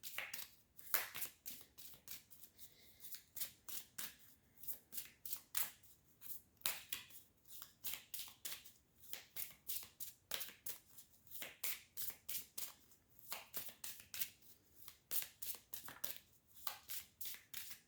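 Tarot cards are shuffled by hand in rapid, repeated riffling bursts, faint and close, with short pauses between rounds and no talk.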